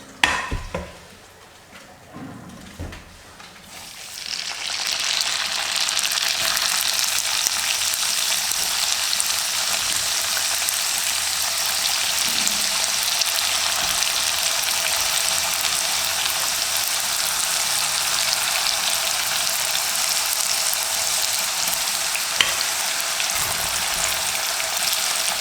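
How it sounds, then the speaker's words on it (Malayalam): A batch of kuzhalappam frying in hot oil, a steady loud bubbling sizzle that swells in after a few quiet seconds of faint clatter and then holds evenly to the end. "കുറേശ്ശെ ആയാണ് ഞാനിത് ഫ്രൈ ചെയ്തെടുക്കുന്നത്"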